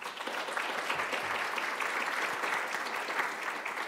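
A lecture audience applauds an introduced nursing scholar, a steady, moderately distant roll of many hands clapping with no voices over it.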